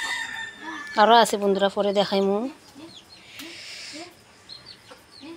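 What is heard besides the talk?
chickens clucking in a village yard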